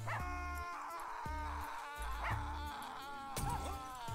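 Dog barks, yips and whimpers from the video game Russian Subway Dogs ring out in a busy electronic game soundtrack, several short bursts over a steady musical bed.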